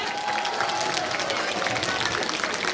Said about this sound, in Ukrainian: Будь ласка, подаруйте їм свої оплески